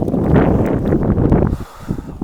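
Strong wind roars across the hilltop at Ramakkalmedu Viewpoint in Kerala, buffeting the microphone in loud, gusty surges that ease slightly toward the end.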